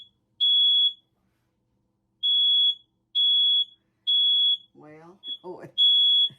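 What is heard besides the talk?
smoke alarm beeping in kitchen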